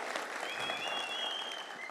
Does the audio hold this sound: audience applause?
yes